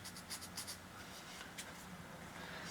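Pen marking a smooth wooden dowel during a 1997 GMC Sonoma master cylinder replacement, a few quick close scratchy strokes in short bursts, then quiet.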